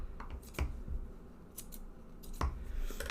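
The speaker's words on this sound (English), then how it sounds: "you're just going to trim the sides here" Scissors snip along the sides of a handmade unicorn-horn potion ingredient craft, a few crisp close cuts spaced out over a quiet room.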